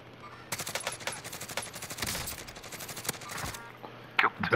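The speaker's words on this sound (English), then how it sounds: "Getting shot at." Rapid bursts of automatic gunfire crackle close and loud in Call of Duty: Modern Warfare, with several sustained volleys and brief gaps between them.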